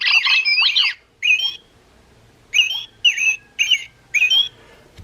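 A Wild Republic plush American robin toy plays its recorded birdsong, a loud, close series of bright chirping phrases in short bursts separated by brief pauses.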